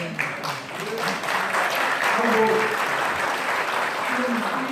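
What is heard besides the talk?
audience applauding at a lecture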